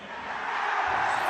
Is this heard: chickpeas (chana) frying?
no